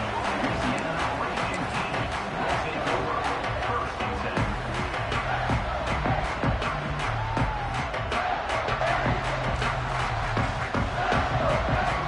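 Steady, dense roar of a stadium crowd at a college football game in NCAA 26, a continuous wash of cheering and murmur with no pause.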